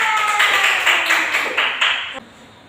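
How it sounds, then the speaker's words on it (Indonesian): A class claps during a peer-teaching practice lesson at an Islamic college in Purwakarta, Indonesia: dense, fairly loud classroom clapping that surges in short waves for about two seconds, then drops away quickly. "Kasih tepuk tangan."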